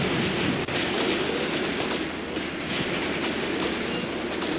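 Steady, dense small-arms fire from Soviet soldiers in Graviteam Tactics: Mius Front, a continuous crackling fusillade that stays loud for the whole stretch.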